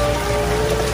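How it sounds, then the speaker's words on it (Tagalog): Steady heavy rain pours down outdoors, a dense, continuous wash of drops on surfaces, loud and close with no pauses or voices. "At wala pang tigil yung buhos ng ulan."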